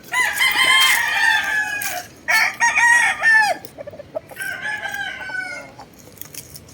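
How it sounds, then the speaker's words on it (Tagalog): Gamecock roosters crow loudly several times in succession, close by, with clucking hens in between and after; no talking. "Maraming manok dito."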